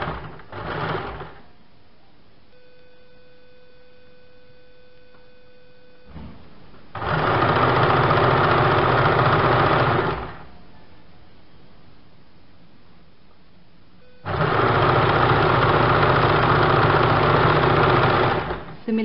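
Sewing machine stitching along the edges of a blouse strip in two loud, steady bursts of about three and four seconds, separated by quieter pauses with faint handling sounds.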